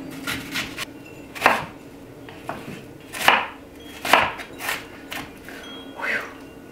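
Onions are chopped with a knife on a cutting board for mushroom soup, giving irregular sharp knocks at close range. Some knocks land singly and some in quick pairs, with a faint room hum between them.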